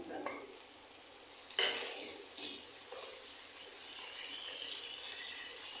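Tomatoes go into onions frying in a pan for prawn masala, raising a sudden loud hissing sizzle that settles into a steady bright crackle, close and alone.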